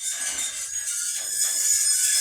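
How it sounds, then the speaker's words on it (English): A squeaky, broken garage door grinds and rubs in a continuous harsh, hissy scrape with faint high squeals, steady and fairly loud, growing slightly toward the end. "Don't suffer with a squeaky, broken garage door any longer"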